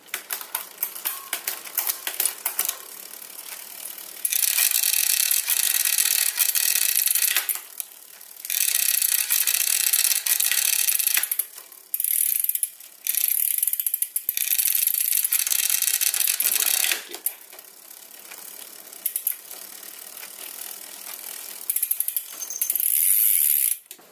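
A mechanical front derailleur on a bicycle being shift-tested, loud rapid ratcheting clicks from the pedaled drivetrain in several long bursts separated by short quiet pauses, close and alone.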